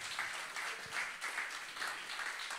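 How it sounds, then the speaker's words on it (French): Applause from a church congregation, moderate and somewhat distant, coming in rhythmic waves of clapping for a couple of seconds. "ça mérite vos applaudissements"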